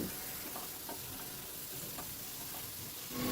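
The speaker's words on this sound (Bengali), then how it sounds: "চিংড়ি মাছটা দিয়ে আবারও সব কিছু ভালো করে মিশিয়ে নিচ্ছি। অনবরত কিন্তু নাড়তে হবে, নাহলে কিন্তু পোড়া লেগে যাবে।" Shrimp frying in spices in a pan on medium-low flame, a steady soft sizzle filling the whole stretch with faint scraping of continuous stirring underneath.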